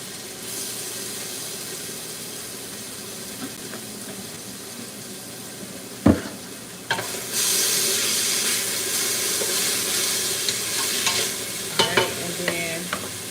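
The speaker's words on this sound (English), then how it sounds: "let me add a little bit of garlic in there" Garlic sizzling in a hot frying pan while being stirred: a steady close hiss, a sharp clank midway, then a louder surge of sizzle with scraping spatula strokes, no voices.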